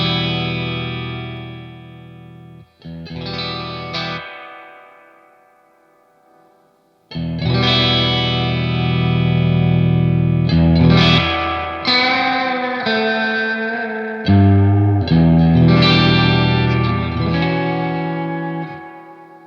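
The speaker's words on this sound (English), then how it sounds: "with the volume knob, you can actually boost the signal and you can drive the reverb spring even harder, giving you this nice little springy overdrive" A Crazy Tube Circuits White analog spring reverb pedal is driven hard on electric guitar, giving a loud, springy, overdriven tone as strummed chords ring out with splashy reverb tails and brief pauses between phrases.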